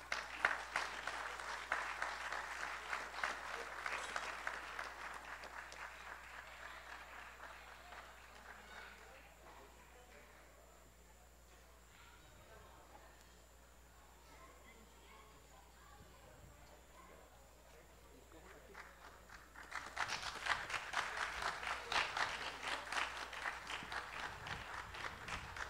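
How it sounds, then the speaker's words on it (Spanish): Audience applause at a tribute to marimba players at a Guanacaste cultural festival in 2014, a long wave of clapping that fades to a quiet lull midway, then swells again strongly near the end. "Muchas gracias por estos aplausos."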